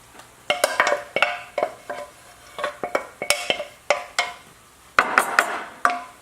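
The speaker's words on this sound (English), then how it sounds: "we're going to move this sauce over into our bowl" A spoon scrapes and clinks against a pan and bowl as tomato basil sauce is transferred, a rhythmic run of sharp metallic taps and scrapes, close and clear, with no talking.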